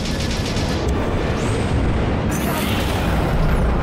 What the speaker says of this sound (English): Launch missile, Captain.